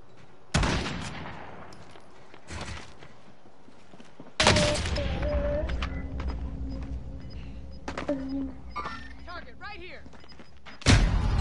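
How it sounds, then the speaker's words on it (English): Gunfire in a video game arrives as a few sharp, loud cracks spaced several seconds apart, separated by quieter stretches holding mechanical rumble and faint voices. "They're shooting at me."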